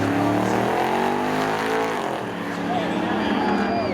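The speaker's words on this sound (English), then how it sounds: "That brings us to David Medeiros, Chevy Camaro, 1982 from Berkeley, against Bill Bradstreet" A 1982 Chevy Camaro and a rival car race side by side at Seekonk Speedway, engines roaring loudly with rising and falling pitch as they pass, while an announcer talks over the racing.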